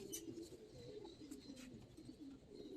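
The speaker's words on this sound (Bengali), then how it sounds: "ভাই কবুতর দেখেন মাশাআল্লাহ" Old-breed Giribaz pigeons in a loft cooing softly and steadily, a low continuous murmur of several birds close by with faint chirps above it.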